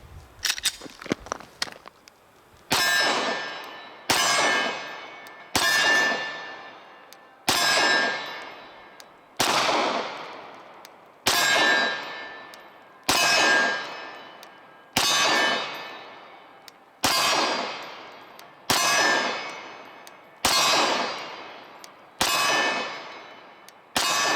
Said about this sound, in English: some one-handed shooting here with the SAR-9 from Sarsilmaz